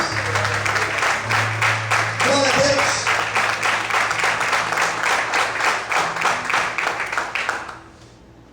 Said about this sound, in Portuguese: Se você crê, glorifique e aplaude ao Senhor nessa noite